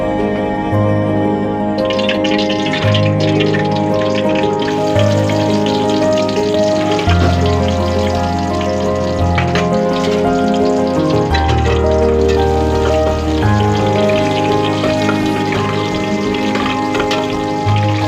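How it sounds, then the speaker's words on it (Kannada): Masala for egg sambar fries in a pan with a steady, soft sizzle under continuous background music. "ಬಣ್ಣ ಬಂದಿದೆ. ಫ್ರೈ ಆಗ್ತದೆ."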